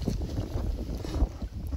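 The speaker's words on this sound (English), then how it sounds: "so it's as windy as all hell" Strong wind buffets the microphone outdoors on a warthog hunt, a continuous low, gusty rumble that swells and dips throughout.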